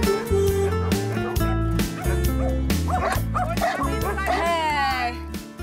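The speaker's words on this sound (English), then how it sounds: "So many dogs, hè?" Many dogs at a rescue shelter on Ibiza bark, yip and whimper close by in overlapping bursts, with people talking among them.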